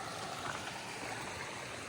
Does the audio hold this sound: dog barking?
no